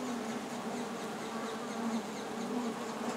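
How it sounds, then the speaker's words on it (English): Honeybees buzz inside a brood box, a dense steady hum that resonates and echoes within the wooden box, close and continuous with no talking. "the buzzing sort of echoes in the box and very strange sound"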